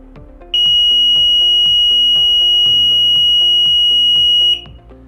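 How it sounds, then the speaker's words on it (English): End-of-period countdown buzzer alarm at a car wash and vehicle maintenance shop, one loud sustained piercing electronic tone lasting about four seconds, heard close over faint background music, then cut off. "we just experienced the end of period buzzer alarm going off at a much louder volume"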